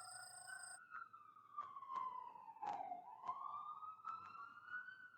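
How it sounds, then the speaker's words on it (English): An ambulance siren passes at a distance, a faint wailing tone rising and falling with a slight pitch drop as it goes by, over low background noise. "Ironically, an ambulance goes past."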